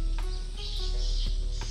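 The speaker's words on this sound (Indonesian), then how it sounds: "ada suara bunyi-bunyi burung walet" Swiftlets chirp in a riverside village on the Kapuas River, quick high twittering calls repeating over a steady low hum.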